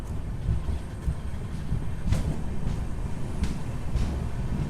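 The Karimnagar–Tirupati weekly superfast express with LHB coaches pulls away from Mahabubabad station, a low steady rumble with faint rhythmic clicks of the wheels; no voices.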